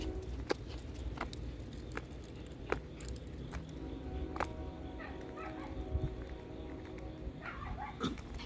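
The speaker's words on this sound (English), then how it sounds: "My dog hears the next door neighbor's dog." A dog in a yard barks and yips in scattered bursts at a neighbor's dog, sharp and fairly close, with brief whimpering sounds between barks over an outdoor background.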